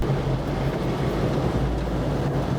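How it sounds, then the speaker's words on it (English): Strong wind roars steadily across an open mountaintop on Har Dov, one of the highest points in northern Israel, buffeting the microphone with a constant low rumble and no voices. "Incredibly windy, one of the highest points in the north"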